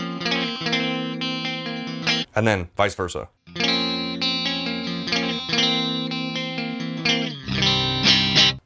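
An Epiphone Explorer electric guitar with coil-split pickups rings out distorted chords through chorus and reverb effects, with bright sustained notes, brief gaps and a quick string slide, while someone speaks briefly.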